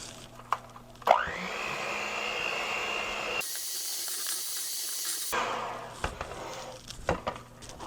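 An electric mixer churns pecans into cookie dough with a steady, loud whir that runs for several seconds, along with some clatter and scraping against the bowl at the start and end.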